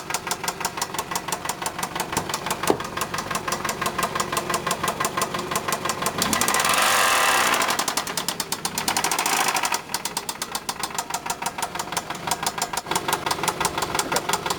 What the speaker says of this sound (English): it has a problem in the motor that sounds like piston bearings or a bent rod